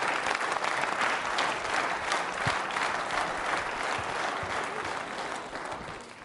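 Steady, dense applause from a quiz show audience of trainee state services officers in India, continuous clapping that holds at a moderate level before easing slightly at the end.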